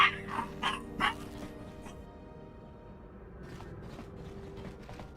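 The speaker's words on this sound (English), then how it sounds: "I got the space dogs barking." Space dogs bark in the Knights of the Old Republic video game, a few quick yips near the start, then fainter barking under a low droning game background.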